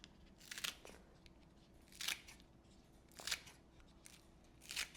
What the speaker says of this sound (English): we're just going to cut some of these off and slice them off on the diagonal